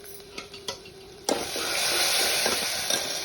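Ginger-garlic paste hitting hot oil with tempered mustard seeds, cumin and curry leaves, bursting into a loud steady sizzle after a couple of soft clinks, with a spoon stirring through it.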